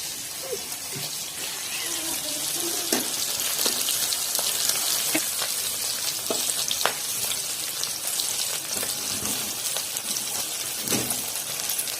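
Prawn curry frying in a pan, giving off a steady sizzle with scattered clicks and light scraping throughout.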